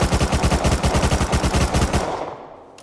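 Rapid automatic fire from an MP5 submachine gun in the video game Rust Console Edition, a fast even burst of shots lasting about two seconds before cutting off into a short decaying tail.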